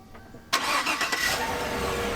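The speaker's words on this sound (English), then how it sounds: "A little remote start. Obviously it's a V8." A V8 pickup truck engine fires up by remote start, a sudden catch that settles into a steady, rumbling idle close by.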